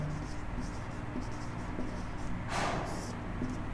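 Pen scratching across paper as a Hindi grammar lesson is written out, a steady close, soft scribbling texture with small stroke accents and a brief louder scratch near the end, with no one talking.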